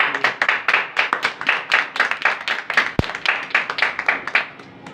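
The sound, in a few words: clapping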